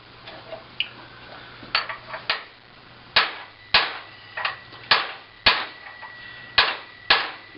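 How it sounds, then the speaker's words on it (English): A steel bolt with a nut on it being smashed with a hammer, a series of about a dozen sharp metallic blows at an irregular pace, close and loud against a quiet background hum. "We're going to smash up a bolt."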